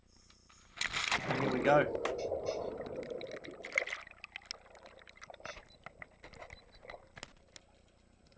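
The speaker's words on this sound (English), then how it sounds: "This is when I jump in the water." Water splashes loudly as a cameraman jumps in, a big close rush of bubbles and churning that settles into softer underwater gurgles and clicks, with a brief voice just before.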